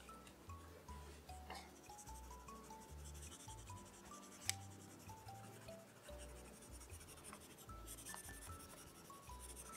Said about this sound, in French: avec mon crayon de la même couleur, je vais colorer l'autre côté.